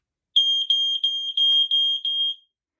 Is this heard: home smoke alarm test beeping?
yes